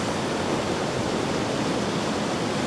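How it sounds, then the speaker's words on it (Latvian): Callander waterfall in Scotland pours with a steady, loud broadband rush of falling water, continuous and unbroken throughout, with no voices over it. "Šis te ir Kalanderas ūdenskritums."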